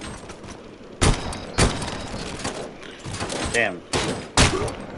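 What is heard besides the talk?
gunfire from a gun in a Robocop video game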